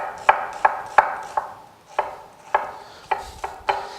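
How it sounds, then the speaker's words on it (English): A knife chops through peeled onions on a cutting board in about ten crisp, evenly spaced thuds, close and clear with no talking over them. "I use my knife, and I'm cutting directly through the onion"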